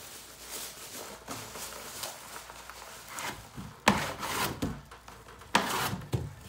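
Wallpaper being trimmed along a wall beside a freshly painted wall, with a run of close scraping, rasping strokes that grow louder and sharper in the second half, alone with no talk.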